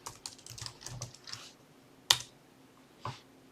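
Someone types a short word on a computer keyboard while drafting in Civil3D: a quick run of light key clicks, then a sharp louder keystroke and one last tap, close and clear with no talking.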